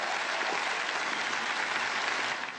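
Steady, dense applause from a crowd fills the whole stretch, loud and even, fading slightly at the very end, with no voices standing out.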